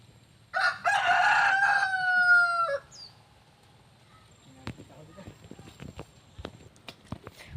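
A rooster on a rural farm gives one loud, close cock-a-doodle-doo lasting about two seconds, followed by quieter clucks, scattered footsteps and faint background voices.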